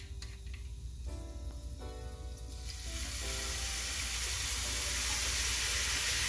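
Fried rice sizzling in a pan after soy sauce is poured in, the frying hiss swelling to a loud, steady sizzle that fills the second half, with faint stirring and clinks early on.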